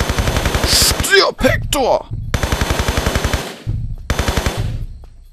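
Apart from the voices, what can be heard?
gunfire in video game Tomb Raider 3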